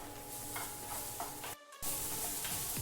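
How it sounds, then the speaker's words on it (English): Vegetables for a vegetarian pad thai sautéing in a pan, a steady close sizzle with stirring scrapes throughout, briefly cut off for a moment before resuming. "We're going to saute it for around 2 minutes or until the color is changed into golden brown"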